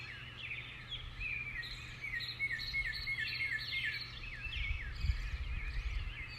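A bird sings a busy run of warbling, chirping phrases at moderate distance over a constant soft background hum, with no talking.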